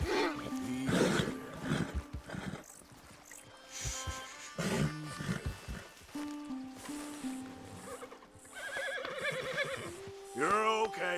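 A spooked horse in Red Dead Redemption 2 lets out whinnies and snorts amid hoof clops and game music, with a voice speaking over parts of it.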